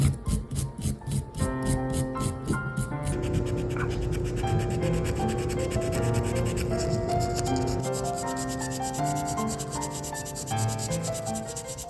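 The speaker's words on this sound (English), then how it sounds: "use a steel brush to gently remove the white oxidation layer from the surface." A steel brush scrubs the white oxidation layer off a fired fine silver clay pendant with a dried flower, giving close, continuous scratchy scrubbing under a bed of music, with a few rhythmic strokes at the start.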